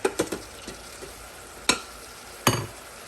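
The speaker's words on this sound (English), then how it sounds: "brown it, of course, that'll take a little bit longer" Breakfast sausage browns in an Instant Pot on sauté mode, a low sizzle beneath sharp spoon scrapes and knocks against the inner pot, with several distinct strikes and no talk.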